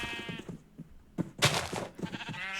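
Sheep bleating in a Minecraft-style video game, several short wavering bleats in quick succession, close and clear with no talk over them.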